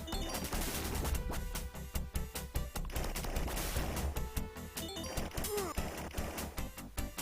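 Rapid gunfire and crashing hits from the arcade game Cyber Police ESWAT play steadily over busy game music, loud and dense throughout with no talking.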